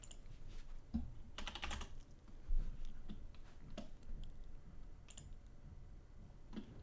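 Rapid typing on a computer keyboard, a steady run of close, crisp key clicks with a few heavier strokes, no voices over it.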